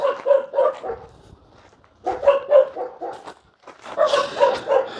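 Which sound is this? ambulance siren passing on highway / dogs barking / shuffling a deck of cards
dogs barking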